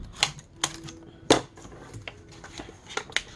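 Paper being trimmed on a craft box, heard as a few sharp, separate clicks and snips spaced irregularly, close by and fairly quiet, with no talking.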